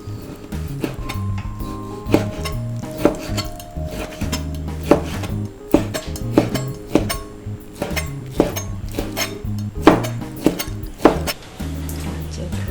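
A knife slicing beef on a board for tteokguk, with a dozen or so firm, irregular chopping knocks mixed with clinks of utensils and dishes, close and fairly loud, with no talk.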